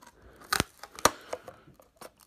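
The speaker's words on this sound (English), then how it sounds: "And now we're gonna use a pair of scissors on Chicken Little." Scissors snipping through a Chicken Little DVD disc, a few sharp close crunching cuts with small crackles between, no talk.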